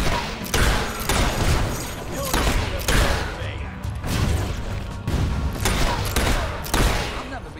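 Rapid bursts of gunfire from Fable III combat, loud and repeated in clusters across the clip with crashes and booms mixed in, while a voice talks over the action.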